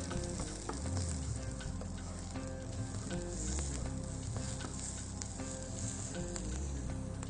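Garlic and onion fry in a pan with a continuous, even sizzle and faint crackle throughout, close up and steady, no voices.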